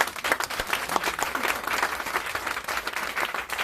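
A church congregation claps and cheers in praise of the Lord during a worship service, a dense, steady burst of applause filling the space from start to finish with no speech on top.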